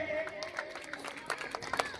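An audience claps at a school Republic Day ceremony in Madhubani, India, with a scattered, quick run of sharp hand claps over a low crowd murmur.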